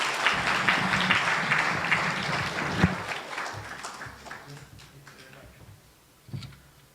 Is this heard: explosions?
no